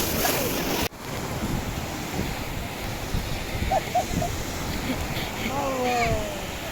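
Sea waves at Arkmane beach in Morocco, a steady wash of surf mixed with heavy wind buffeting the microphone, a sharp bump near the start, and faint brief calls in the distance.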